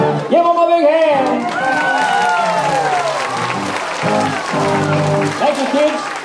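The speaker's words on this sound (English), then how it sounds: "Give them a big hand." An audience applauds children after a song with steady, dense clapping and cheering, while voices call out and talk over it.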